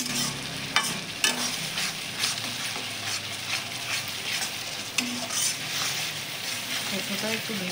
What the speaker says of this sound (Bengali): শস্যটা একটু ভেজে নেব, মশলাটা